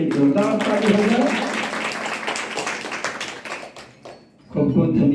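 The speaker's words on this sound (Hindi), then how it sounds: "ये इनके लिए जोरदार ताली हो जाए।" Loud applause for a guest speaker at a religious festival gathering, a dense crowd of clapping that swells, dips briefly near the end, then surges back, with voices mixed into the noise.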